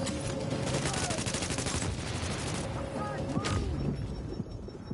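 Sniper fire in The Division rings out among rapid crackling gunfire, sharp shots and bursts layered over a dense battle din, loud and continuous.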